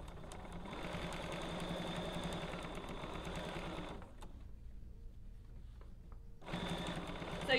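A sewing machine stitches fabric for a travel pillow, its fast rattling hum running steadily for about four seconds, pausing briefly, then starting up again close by.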